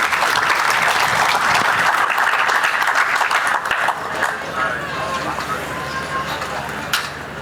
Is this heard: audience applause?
yes